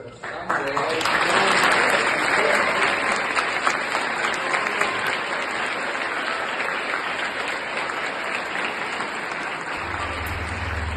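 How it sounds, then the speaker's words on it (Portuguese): A theatre audience gives a long, sustained round of applause after a performance, dense and steady clapping from a full crowd that holds for about ten seconds with a low hum entering near the end. "Eu pedi uma salva de palmas para Samuel."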